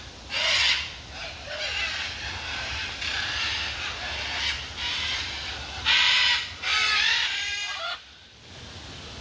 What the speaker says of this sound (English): these are the great green macaws